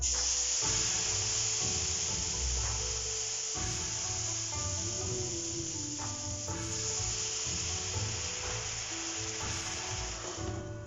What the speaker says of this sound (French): on va faire la deuxième cuisson, qui est cuisson un peu vapeur